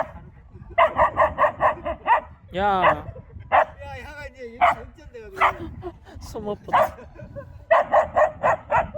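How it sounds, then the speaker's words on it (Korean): A terrier and retrievers bark in rapid bursts of five or six sharp, loud yaps, with whining and yelping between the bursts and someone speaking in between. "왜 짖는데"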